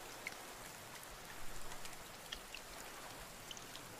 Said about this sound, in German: Oh, das regnet aber lange diesmal.